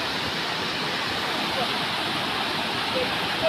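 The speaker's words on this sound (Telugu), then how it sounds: "పైనుంచి వాటర్ ఫాల్ దగ్గరకు వచ్చేసాం" A gentle waterfall near Geelong, Melbourne, flows as a smooth, even rush of water, steady and fairly close, with no distinct voices.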